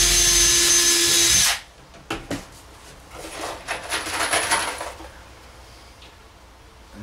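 A power drill drives a screw into the center of a DIY travel trailer kitchenette piece, a loud steady whir for about a second and a half, then stops, leaving brief clicks and quieter handling noises.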